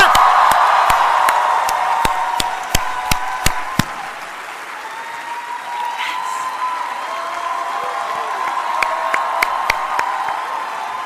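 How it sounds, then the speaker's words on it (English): A standing audience at a motivational speech cheers and claps, with loud crowd noise and sharp, rhythmic claps up front that fade into a quieter roar, then scattered claps return near the end. "just start cheering and clapping"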